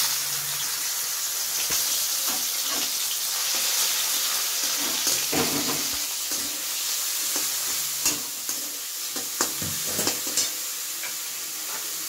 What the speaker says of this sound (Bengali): কড়াইতে সাদা তেল দিয়েছিলাম, সেটা গরম হয়ে গেছে। এতে প্রথমেই চিকেনটা দিয়ে দেবো।